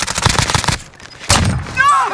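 Enemy gunfire in a shooter game crackles in a rapid burst of close, loud shots, pauses, then returns in a second heavy burst mixed with game sounds.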